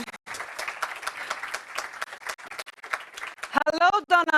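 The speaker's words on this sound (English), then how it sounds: "Let's give them a round of applause." Applause from a youth summit audience in Stockholm, a dense and sustained patter of many hands that fades out, followed by a voice beginning to speak near the end.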